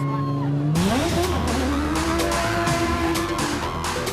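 Rally cars leave the start of the Toyota Botswana 1000 2012 rally, engines revving loudly and climbing in pitch as they pull away, with tyre noise and a continuous close roar.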